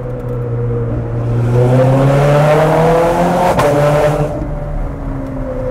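A Ferrari 430 Scuderia with a Capristo exhaust revs up loudly close by, its rising engine note broken by a sharp gear change before it settles back to a lower drone.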